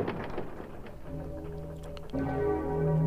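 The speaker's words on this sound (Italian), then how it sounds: "Stanno suonando le campane." Church bells ring in the video game Resident Evil 3: Nemesis, entering as sustained, steady tones about a second in and growing louder and fuller toward the end over a low background.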